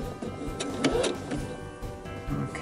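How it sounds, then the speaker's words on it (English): A home sewing machine stitches steadily across fabric while a tote bag is sewn, its motor whir and needle chatter running continuously and fairly close, with small bumps in loudness as the seam turns. "sew over to the other side like this"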